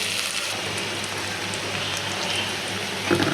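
Sliced onions, with ginger, frying in hot oil in a wok while cooking pabda fish curry, giving a dense, even crackling sizzle close by, with a faint clatter near the end.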